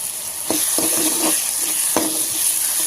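Onion, tomato and ginger-garlic-green chili paste sauté in a pan with a constant close sizzle, marked by a few spatula knocks and scrapes against the metal and a high steady hiss, without talking.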